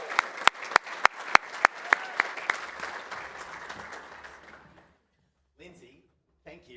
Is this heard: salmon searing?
no